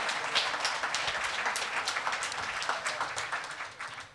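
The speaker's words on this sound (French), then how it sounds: "applaudissez-le bien fort" An audience at a bug bounty presentation applauds a guest, dense continuous clapping from many hands at moderate loudness that tapers slightly toward the end.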